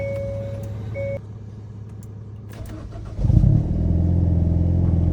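A chime beeps twice, then after a pause a 2019 Hyundai Veloster N engine cranks and catches with a loud burst before settling into a steady idle.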